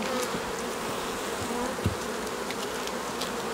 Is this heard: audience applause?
no